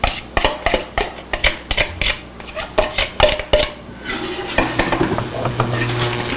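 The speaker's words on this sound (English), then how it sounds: "Next up, we're going to add in our onions like so." Chopped onions tipped into a pot for potato soup, with a series of sharp close clinks and scrapes of a utensil against the pan, followed by a softer sizzling stir.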